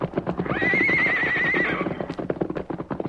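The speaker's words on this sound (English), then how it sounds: "an Indian mounted upon a powerful white horse rode out to block his path" A horse neighs loudly and close in an old-time Western radio drama, a long whinny with clip-clop and commotion beneath, with no talk over it.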